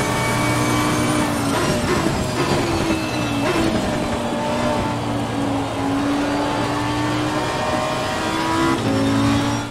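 A GT race car in Assetto Corsa Competizione accelerates hard out of a parabolic corner in a rainy online race, its engine loud and continuous as it climbs through the revs with upshifts.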